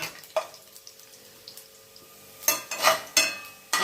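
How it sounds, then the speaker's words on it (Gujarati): Garlic cloves frying in oil in a pan, a soft steady sizzle with intermittent louder crackles and stirring clatter near the end, heard without talk. "10-15 લસણની કલીઓ આપણે નાખી દઈએ, એને ફ્રાય કરી લઈએ"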